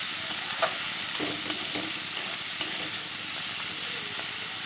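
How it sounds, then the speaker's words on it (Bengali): Potatoes and yardlong beans frying in a pan, a steady loud sizzle and hiss with occasional light scrapes and clinks of stirring. "আলু বরবটি ভাজা হচ্ছে"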